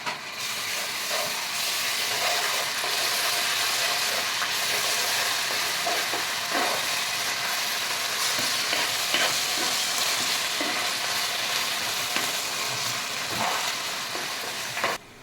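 Ginger garlic paste sizzles steadily in hot oil for a Godavari-style fish pulusu, with a continuous close hiss broken by scattered scrapes and clinks of a spoon stirring the pan throughout.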